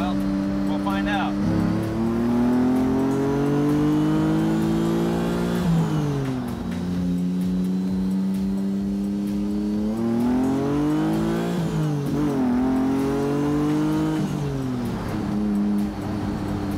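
A 7-liter Ford Galaxie 500 engine revs repeatedly, its pitch climbing through the gears and then dropping, loud and steady from inside the car, with voices talking underneath.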